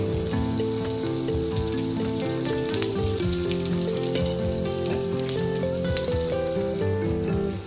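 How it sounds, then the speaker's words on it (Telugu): Smoking-hot peanut oil hits garlic and asafoetida in a pan, setting off a continuous, close crackling sizzle that holds steady throughout, with tonal music playing underneath. "మరిగి మరిగి నూనెని ఈ వెల్లుల్లిపాయలు ఇంగు మీద వేసుకోవాలి"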